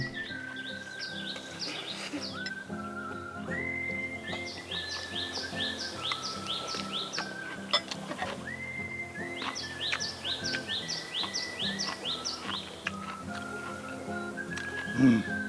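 Wild birds sing outdoors around a wooden house on a pesticide-free sancho pepper tree farm in Hwacheon, their repeated bright chirps and whistled phrases coming in overlapping bursts at moderate distance without a pause.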